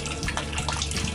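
Water pouring steadily from the outlet of a small mini water pump in a garden, a continuous close splashing gush with no pauses.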